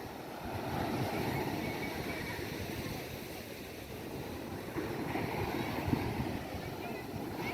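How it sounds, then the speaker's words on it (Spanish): Choppy sea with high waves off Cancún produces a steady, broad wash of surf and wind noise, fairly faint and continuous throughout, with no clear individual wave breaks standing out. "Un poco picado el mar, está con las olas muy altas."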